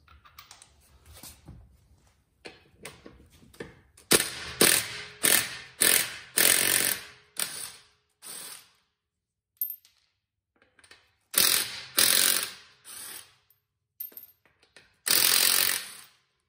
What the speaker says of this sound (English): I'm gonna go ahead and remove the wheel. This is a 19mm, these lugs.